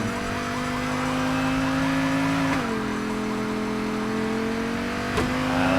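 Car driven in the Payday 2 video game, a steady engine drone that shifts pitch as it accelerates, with a siren-like wail layered over it and no talk.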